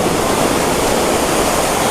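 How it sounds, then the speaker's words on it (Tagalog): Large ocean waves at a La Union beach produce a loud, continuous broadband roar of surf, steady and close with no distinct breaks, no voices present. "Ang Lakas ang lalaki ng mga alon."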